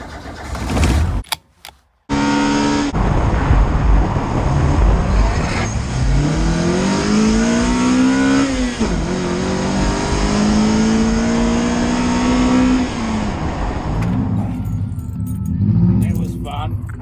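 A car at a cars and coffee meet starts and accelerates away loudly, its engine note climbing through several revving sweeps close by, with people talking at the start and as the sound fades.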